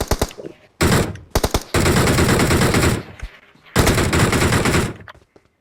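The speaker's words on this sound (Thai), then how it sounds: "อุ้ยฝั่งนู้นยิงอีกเฉยเลย" Gunfire in the video game PUBG, including an M24 sniper rifle setting, sounds as loud bursts of automatic fire: a few quick cracks, then long sustained volleys, a pause, and another heavy burst before fading out.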